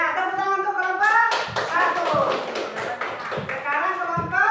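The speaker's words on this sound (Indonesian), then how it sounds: "Tepuk tangan untuk kelompok" Scattered hand claps from a class audience applauding a student group ring out in uneven bursts, mixed with overlapping voices and chatter.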